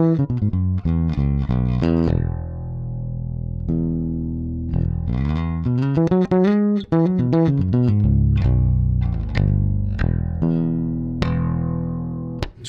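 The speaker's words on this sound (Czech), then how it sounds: "Začnu klasicky, takže dám oba snímače naplno tónovou clonu otevřenou." A Blond JAB-1 electric guitar played with both pickups on full and the tone control open gives bright melodic runs and sustained notes, loud and close, with no talking.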